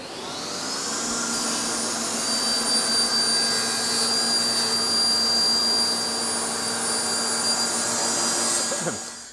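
A saw with a fine tooth blade, set at 27mm, cuts wood in one continuous, loud, whining pass that holds steady for several seconds and then winds down at the end.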